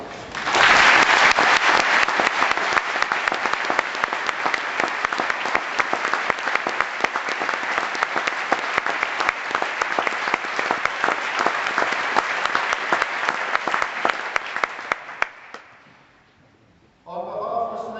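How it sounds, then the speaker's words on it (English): A large audience applauds PhD graduates at the close of a university graduation ceremony. Dense, sustained clapping fills the hall for about fifteen seconds and then fades out, and speech follows briefly at the very end. "I ask the supporters and my colleagues to join in applauding this magnificent collection of graduates"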